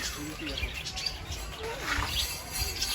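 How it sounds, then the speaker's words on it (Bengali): Parrots chirp and squawk in an enclosure, scattered short calls over a steady background murmur, with people talking nearby. "আর ভেতরে টিয়া পাখি আছে কত সুন্দর সুন্দর টিয়া পাখিগুলো"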